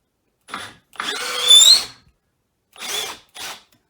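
A Milwaukee Fuel Gen 2 12V drill whirs in several short bursts, the longest about a second with rising pitch as it bogs under load, then two brief spurts after a pause; close and loud, with no talk.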